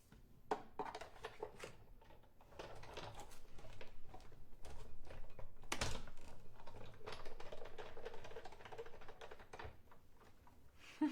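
A manual die-cutting machine cranks a die, held with removable tape, through its rollers: a steady grinding, clicking mechanical run lasting several seconds, close and moderately loud, with scattered ticks and one sharper creak midway.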